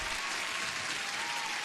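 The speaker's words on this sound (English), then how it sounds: "Let me give you an applause, and to everyone." A canned applause sound effect plays on a live stream. Dense, even clapping and light crowd noise hold steady at a constant level throughout, with no voices over it.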